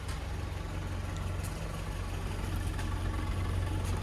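Land Rover Series 3 with freshly overhauled carburettor, idle set slightly low, a steady low rumbling engine idle with an even pulse, close by and alone.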